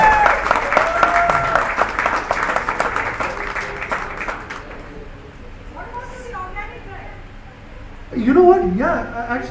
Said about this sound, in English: Round of applause, guys. Give it up for this guy.